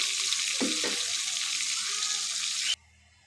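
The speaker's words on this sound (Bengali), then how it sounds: "আমি মাছগুলো ভালোভাবে উল্টিয়ে পাল্টিয়ে হালকা করে ভেজে নিচ্ছি" Pieces of pangas fish fry lightly in hot oil, a dense, steady sizzle with a few soft knocks of stirring before the sound cuts off abruptly.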